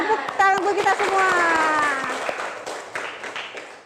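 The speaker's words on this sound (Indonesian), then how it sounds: "Tepuk tangan buat kita semua." A group of teachers in a coaching session applaud together, with a raised voice calling out at the start, then a busy, close clatter of hands that fades toward the end.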